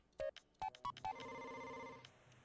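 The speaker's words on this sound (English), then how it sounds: "The sound effect when you enter like a phone number and you get the door open." In a video game, a keypad door-unlock effect plays four quick beeps, as if a phone number is being dialed, followed by a sustained ringing electronic tone that fades out, heard clearly on its own.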